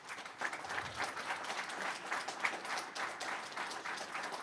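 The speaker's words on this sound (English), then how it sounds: "let's give them a round of applause" An audience at a Montclair city council meeting applauds Little League board members, a steady wash of clapping from many hands that sounds somewhat distant and soft throughout.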